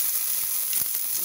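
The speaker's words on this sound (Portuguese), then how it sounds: "eu vou fritar aqui a cebola e o alho" Onion and garlic frying in oil give a steady, close sizzle that runs the whole time, with a couple of soft low knocks from stirring and no voices.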